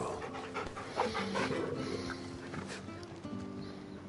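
A dog in the video game Final Fantasy XVI pants steadily while being petted, quick rhythmic breaths close up over a soft background of ambient game sound and light footsteps.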